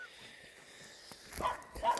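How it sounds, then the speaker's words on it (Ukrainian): A mother dog barks somewhere in the distance near a rubbish dump on a cold, wet day, a faint couple of barks and yelps rising near the end over quiet background. "І мамка там десь гавкає"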